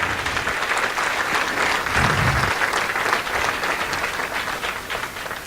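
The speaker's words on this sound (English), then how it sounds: "Please give these people a huge round of applause for the work that they have done." An audience at a school district committee thank-you gathering gives a full round of applause, many hands clapping in a thick, even roar that stays loud throughout, with a brief low rumble midway.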